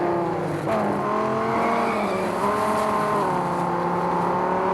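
Engine of an SRT Viper GTS, a 450-horsepower car, in the racing game Real Racing 3: a loud, steady engine drone with shifting pitch, revving continuously throughout with no voices.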